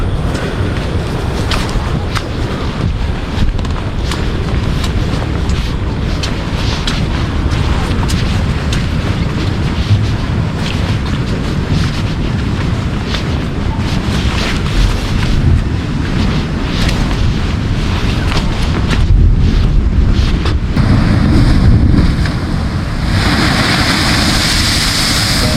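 Sea waves surge and crash through the split rocks at the Hummanaya blowhole in Kudawella, Sri Lanka, a loud, continuous churning roar mixed with heavy wind buffeting on the microphone.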